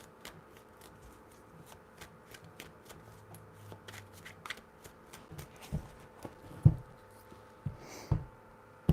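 Close hand shuffling of a tarot deck, a run of light, evenly spaced card taps and flicks that grow a little louder and sharper toward the end, with no voices.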